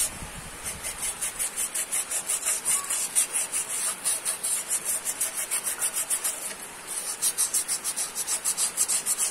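Sandpaper worked back and forth across a diesel engine cylinder block in a repair shop, giving fast, rhythmic rasping strokes heard up close, with a short pause before the scrubbing resumes.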